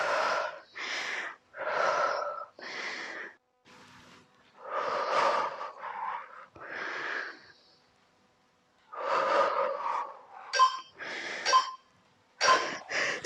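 Heavy, rhythmic breathing and gasping during an at-home beginner HIIT cardio workout, with repeated bursts of exhaled breaths separated by short pauses, close and fairly loud, no talking.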